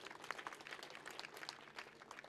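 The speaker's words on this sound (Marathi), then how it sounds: "सर्वांनी टाळ्या वाजवायच्या." At a harinam saptah religious gathering in a village, the audience gives a brief burst of scattered clapping that sounds quiet and somewhat distant, with distinct individual hand claps standing out within it.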